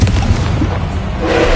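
Confringo spell blast in the Hogwarts Legacy video game, a loud, dense booming burst that fills the whole moment with a heavy low rumble and a rising whoosh at the end.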